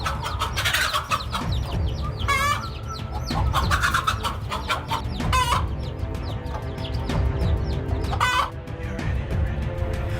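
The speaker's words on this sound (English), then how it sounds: "The mother hen still tries to fight the cobra until the little chickens move to safety." A mother hen clucks agitatedly while fighting a cobra to protect her chicks, with repeated loud clucks and squawks over a dense, noisy background and no talking.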